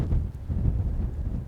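Strong wind buffets the microphone on an exposed Peak District moor. The rumbling gusts stay loud and continuous throughout, with no voices.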